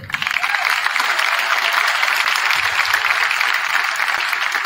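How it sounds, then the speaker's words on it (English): Sustained applause from a crowd, steady and dense throughout, with many hands clapping at once and no pauses. "Please give every one of these 11 athletes, student athletes, one more round of applause."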